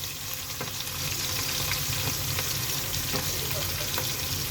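Onions frying in hot oil for a pangas fish curry with potato and taro, giving a dense, continuous loud sizzle with faint crackles and occasional soft stirring ticks close by.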